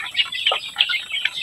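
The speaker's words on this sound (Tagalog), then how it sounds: "papakita ko sa inyo mga kabukid yung ating mga alagang manok ngayon" Backyard chickens raised for sale, a flock of around 35 birds, cluck and chirp in a continuous, close busy chorus with overlapping short calls and no talking.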